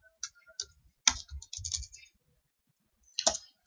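Keystrokes on a computer keyboard while entering Python code, two quick bursts of close, crisp clicking separated by a short pause, with no talking.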